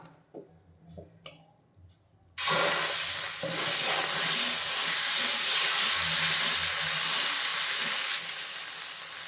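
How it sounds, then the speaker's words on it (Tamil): Ragi and horsegram dosa batter hits a hot oiled pan with an abrupt, loud, steady sizzle that holds unbroken after a few quiet kitchen knocks. "தோசை பேன் சூடு பண்ண வச்சுருக்கிறேன் சூடாகிடுச்சு ஆயில் க்ரீஸ் பண்ணிவிட்டு மாவை சேர்த்துடலாம்"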